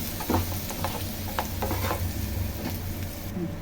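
Potatoes fry slowly in a pan with a steady, even sizzle, broken by a few soft scrapes of stirring, close by and with no talk.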